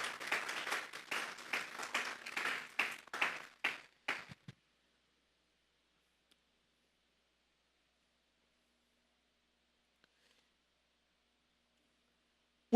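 Church congregation applauding to the Lord, a short burst of rhythmic clapping for about four seconds that stops abruptly, followed by near silence.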